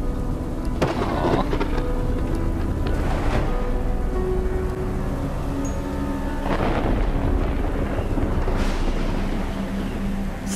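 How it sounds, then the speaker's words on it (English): Stormy ambience from the VR video game Luna on Oculus Quest 2, a steady wash of rain and wind with rolling thunder swells, a few sharp crackles and faint tonal music layered throughout. "But in the void that was left, a terrible storm grew, blowing the bird far away from home."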